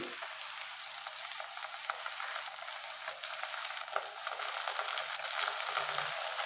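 Ginger and garlic paste sizzles in a pan of hot oil with salt, a soft, steady frying hiss with faint stirring scrapes and no talking.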